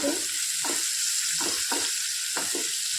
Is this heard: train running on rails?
no